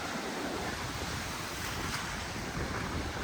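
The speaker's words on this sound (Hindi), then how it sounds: "वेव्स आ रही है, कमाल" Sea waves washing ashore at Liverpool beach in the UK, a steady, full roar of surf mixed with wind noise on the microphone, continuous and close.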